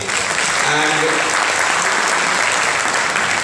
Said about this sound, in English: So once again, a big round of applause for Romit.